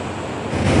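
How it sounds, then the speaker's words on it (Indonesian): Rushing water of the Aek Situmandi river, a boulder-strewn river at a local tourist spot in Hutabarat, Tarutung, roars as a steady broadband wash that swells slightly louder toward the end, with no voices. "mengundang rasa gemuruh oleh suara air sungai yang deras"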